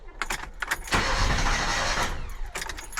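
A ZAZ 1102 Tavria car with a carburettor has its engine started: a few quick clicks, then the starter cranks briefly and the motor catches into a loud, close, rough run with no talking.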